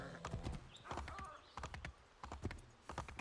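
Horse hooves clip-clop in Assassin's Creed 3, an uneven run of close, clattering hoofbeats with a brief whinny, and a voice talks over them.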